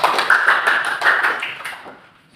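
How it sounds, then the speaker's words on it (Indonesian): A classroom group claps together during a discussion session, a quick burst of sharp hand claps in rhythmic bunches that gradually trails off. "Tepuk tangan."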